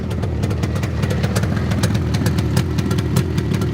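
A 1971 Suzuki T500R Titan two-stroke twin motorcycle idles with a loud, close exhaust, a rapid uneven popping putter that stays steady with no talk over it.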